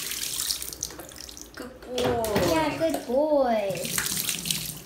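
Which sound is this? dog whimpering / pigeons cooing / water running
water running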